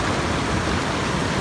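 River water rushes steadily as people cross a stream near Pokhara, giving a loud, continuous broadband roar with no breaks and no voices.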